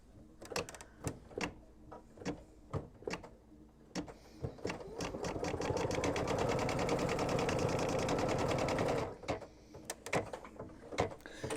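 Embroidery machine stitching felt held in the hoop, a rapid mechanical needle rattle that runs steadily for several seconds, framed by slower, irregular clicks and taps before and after.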